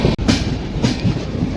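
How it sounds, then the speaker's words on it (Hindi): The Tamil Nadu Sampark Kranti Express, Madurai to Delhi, pulls into Jhansi station with a loud, close rumble of wagons and a few rhythmic wheel clacks over the rail joints. No one speaks. "ट्रेन हमारी वीरांगना लक्ष्मीबाई जंक्शन रेलवे स्टेशन पहुंच रही है"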